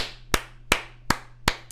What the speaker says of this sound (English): give a round of applause for Papa.